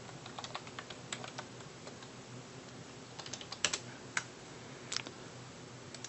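Quiet, close clatter of computer keyboard typing, a string of irregular key presses with a few louder clicks scattered through, steady room hiss underneath and no voices.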